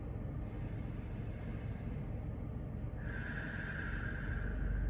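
Slow, deep breathing during a breathwork exercise, a steady, loud airy rush of breath close to the mic, with a faint tone rising in the background partway through.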